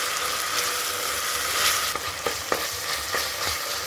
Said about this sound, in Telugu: అల్లం వెల్లుల్లిపాయ బాగా వేయించుకోవాలా